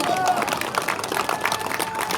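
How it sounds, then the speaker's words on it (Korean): An outdoor audience at a Gyeonggi Farmer's Day political speech claps continuously in a dense, even patter of applause, fairly close and sustained throughout. "이쪽도 박수 좀 쳐주세요"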